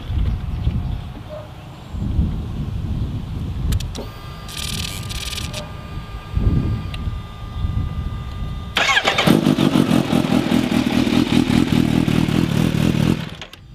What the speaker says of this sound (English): Akrapovic exhaust, full exhaust on this motorcycle.